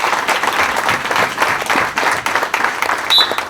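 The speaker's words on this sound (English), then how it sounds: "let's give Mike a round of applause" A crowd at a high school football event gives a round of applause, dense and steady clapping filling the space, with cheers mixed in and no pause throughout.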